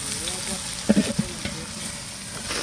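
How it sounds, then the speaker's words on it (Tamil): Onions fry in oil for dum biryani with a constant close sizzle, and a few stirring knocks come through near the middle. "நல்லா வெங்காயம் நல்லா சவந்துட்டு போலாங்க"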